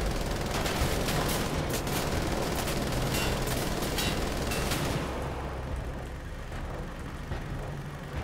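Enemy soldiers fire on the player in the shooter Wolfenstein: The Old Blood. Loud, dense bursts of rapid gunfire rattle continuously for several seconds and then drop to a quieter rumble.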